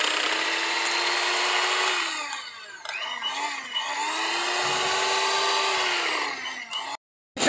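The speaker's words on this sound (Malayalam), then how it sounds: "ഇനി ഇതിനെ 15 മിനിറ്റ് നല്ലോണം ഒന്ന് ബീറ്റ് ചെയ്തെടുക്കാം." An electric beater whips a homemade marshmallow mixture, giving a steady, high motor whine whose pitch dips and wavers as the load shifts, with a brief cut-out before it resumes.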